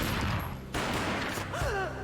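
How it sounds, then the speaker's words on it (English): A gunshot in the Max Payne video game on Xbox Series X: a loud close boom and crack within a dense layer of game sound and music, followed by a sweeping tonal effect. "A gunshot boomed and she fell down in slow motion."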